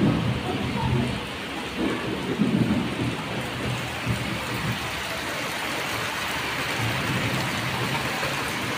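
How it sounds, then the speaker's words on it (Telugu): Heavy rain falling steadily outside a house during a storm, a broad, constant hiss of water with a low rumbling undertone and no voices. "వర్షం అయితే పడుతుంది."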